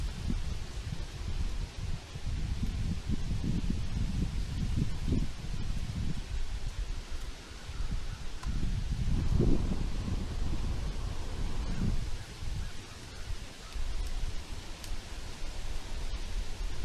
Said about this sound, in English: this wind is just picking up out here today